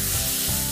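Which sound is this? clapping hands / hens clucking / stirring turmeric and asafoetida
stirring turmeric and asafoetida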